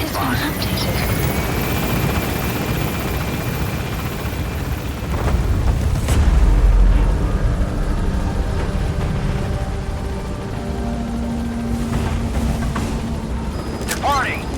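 An extraction helicopter lifts off and departs in Metal Gear Solid V: The Phantom Pain, its rotor thrum and engine whine steady and close, swelling with a heavy rumble midway, mixed with game effects.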